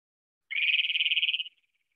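A single Great Plains Toad gives one close, clear trill lasting about a second, a rapid buzzy pulsing call alone against silence.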